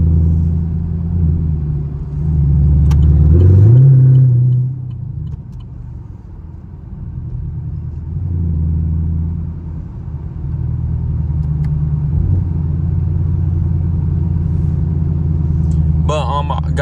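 Chevrolet Camaro SS cruising around 34 mph on a Myrtle Beach road before Bike Week, with a steady low engine rumble and a brief swell as it accelerates, heard from inside the car with someone talking over it.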